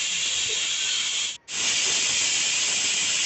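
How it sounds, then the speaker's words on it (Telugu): A loud, steady hiss of escaping steam from a pressure cooker whistle cooking rajma runs continuously with one brief gap before resuming. "ఇలా ఒక ఎనిమిది విజిల్స్ వచ్చే వరకు ఉడికించుకోవాలండి"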